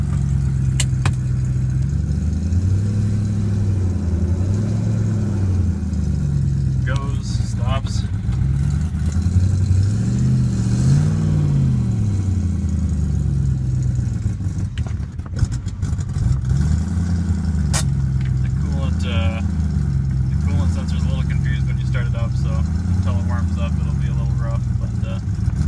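A BMW E30 fitted with a European V8 runs steadily with a low, rhythmic engine drone and a few gentle revs, while people talk nearby throughout.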